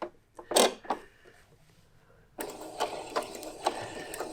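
A sewing machine stitches around a point in fabric with a quick mechanical whir, in short bursts at first, then a stretch of quiet, then steadier rhythmic running with rising clicks.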